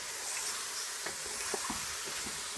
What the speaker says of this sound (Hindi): जो मैंने मैरिनेट किया हुआ चिकन है उसको शामिल कर दिया। इसको हल्का सा फ्राई करूँगी।